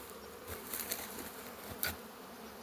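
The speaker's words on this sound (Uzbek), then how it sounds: "Asalarlarimizni yangi joyga ko'chirdik." Honeybees swarm around hives newly moved to a new site, a continuous low buzzing hum with individual bees zipping close past now and then, fairly quiet overall and free of voices.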